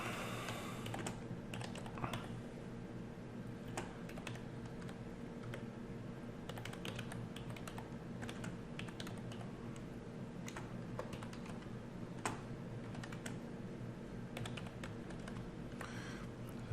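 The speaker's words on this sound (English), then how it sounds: "you don't have to hear my keyboard" Steady typing on a computer keyboard, rapid irregular clicks and taps continuing throughout, close and fairly quiet over a low background hum, with no one talking.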